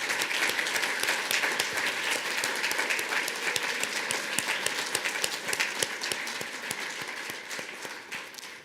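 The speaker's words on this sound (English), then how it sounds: "Let's give our students a big round of applause." Steady, dense applause from a ceremony audience honoring teacher education students at a pinning ceremony, sustained and fairly close throughout with sharp individual claps poking out of the wash.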